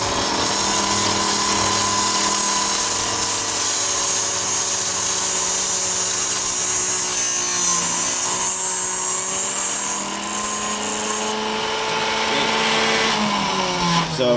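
A power tool's cutting wheel grinds slowly through material while building a 1076 grain buffalo-seeking projectile, a loud continuous high whine that shifts in pitch as the cut progresses, easing off near the end.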